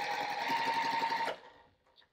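A sewing machine stitches rows of quilt blocks together, giving a steady, close, rapid mechanical chatter for just over a second. It then stops abruptly, leaving a faint clink afterward.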